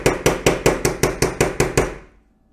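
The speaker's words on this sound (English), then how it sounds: "using my Argo hammer, I'm going to go ahead and just hammer away until I get that nice dome shape I want" A metal earring blank is shaped into a dome with an Argo hammer, giving nine sharp, evenly spaced close strikes in a steady rhythm before the blows stop and fall silent.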